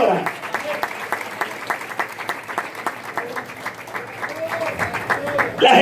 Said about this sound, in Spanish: Dale fuerte esas palmas a Jesús en esta hora.